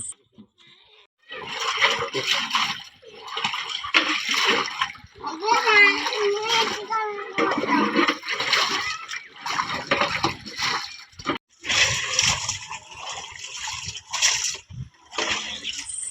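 Water splashing and draining as a small homemade children's swimming pool is washed out, bursts of sloshing and splatter coming and going, with children and an adult talking over it.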